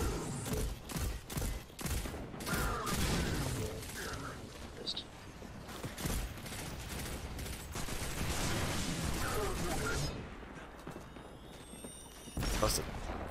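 A grenade goes off in Destiny 2 amid dense gunfire and explosions, loud bursts and rattling shots throughout, with people talking in German over the battle.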